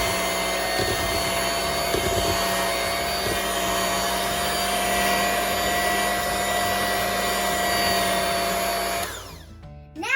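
An electric hand mixer beating cupcake batter in a bowl, a loud steady whirring drone that runs for several seconds and then cuts off, with no talking.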